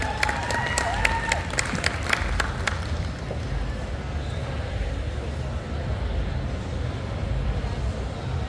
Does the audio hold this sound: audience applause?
yes